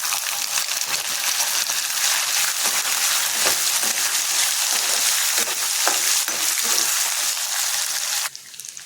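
Tamarind and garlic fry in a pan on a low flame, hissing steadily and densely up close. Spoon-stirring scrapes run underneath until it quiets near the end.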